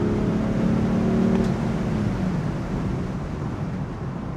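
A BMW 435d F33 Cabrio diesel accelerates hard on kick-down in Sport Plus mode, a loud, steady low engine roar with road and wind noise that holds, then eases slightly.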